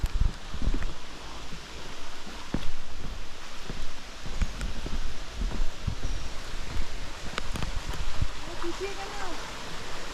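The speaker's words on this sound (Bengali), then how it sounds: "এখানে সব জলের শব্দ হচ্ছে, মানে জল নেমে আসছে পাহাড়ের উপর থেকে" Rain-fed water rushing down wet hillsides in Ghum, Darjeeling, a continuous broadband wash of flowing water heard during a village walk, with scattered rustles and bumps and occasional talk.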